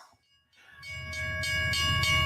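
A train sound effect for a hype segment: a sustained multi-tone train horn chord swells in after a brief quiet, with rolling rail rumble building beneath it, loud and close.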